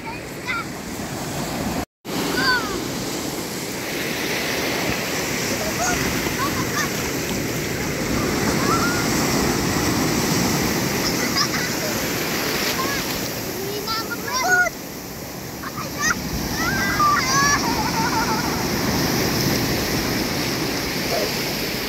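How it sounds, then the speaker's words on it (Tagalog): Ocean waves at Il Mare Beach Camp in Agno, Pangasinan roll in as a continuous loud surf wash mixed with wind buffeting the microphone, with faint voices in the background. "laki ng alon"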